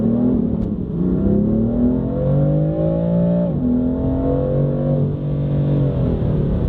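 A car with Guerrilla aftermarket exhaust valves fully open pulls away from a standstill in manual mode, its loud engine note climbing steadily through rising revs with a brief dip at a gear change, close and continuous with no talk.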